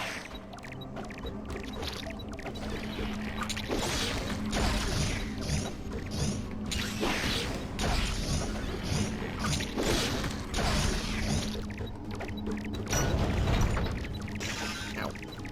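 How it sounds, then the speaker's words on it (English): A suction fan in Metroid: Samus Returns pulls in bombs with a busy mechanical whir, layered with creaking, clanking game effects that swell and fade in repeated bursts. "this annoying little fan right here. It just sucks on your bombs."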